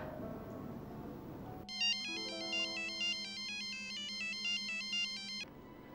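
A telephone ringtone plays a bright, repeating electronic melody over a steady low tone, starting abruptly after a muffled indoor scene and then cutting off, loud and close with no talking.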